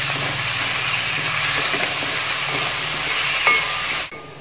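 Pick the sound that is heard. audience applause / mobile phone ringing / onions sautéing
onions sautéing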